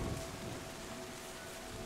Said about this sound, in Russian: Дождь опасная штука.